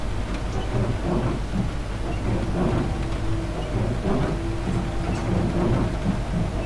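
Steady rain with rolling thunder inside a Class 395 train cab on the St Pancras to Ebbsfleet route in a train simulator game, a continuous dense wash of rainfall with low rumbles swelling through it.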